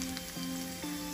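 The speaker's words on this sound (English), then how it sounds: "And then just saute this till the point that the onions are slightly golden brown." Chopped onion, green chili and curry leaves sautéing in oil in a pan, a soft, steady sizzle with a faint continuous hum underneath, heard alone for about a second.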